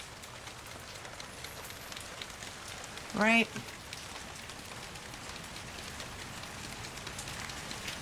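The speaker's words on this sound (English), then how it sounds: "As you can see, it's raining quite heavy." Heavy rain falls outdoors as a dense, steady hiss on nearby surfaces near freezing temperatures, with a brief rising whistle-like tone partway through and a short spoken word.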